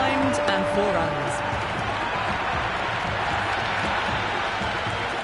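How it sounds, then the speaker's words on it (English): A stadium crowd in the Cricket26 video game roars with a broad, continuous wash of cheering and clapping during a T20 India versus New Zealand match, steady and fairly loud, with a commentator's voice talking over it. "The crowd are really getting quite raucous. It's going to be difficult to focus down in the middle with this amount of noise."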